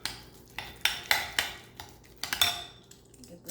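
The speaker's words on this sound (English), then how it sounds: "This is 1 large garlic clove that I'm going to use my garlic press and squeeze into the avocado." A large garlic clove squeezed through a metal garlic press into avocado gives a handful of sharp metallic clicks and clanks, close and fairly loud, spread unevenly over a few seconds with quiet gaps between them.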